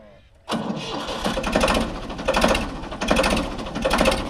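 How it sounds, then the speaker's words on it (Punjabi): A Ford 3600 tractor engine cranks and fires after a short quiet moment, then settles into a loud, rhythmic diesel chugging close by. The running engine has a pulsing beat until the end. "ਪਹਿਲੇ ਬਹੁਤ ਘੈਂਟ ਟਰੈਕਟਰ ਦੀ ਆ ਆਵਾਜ਼"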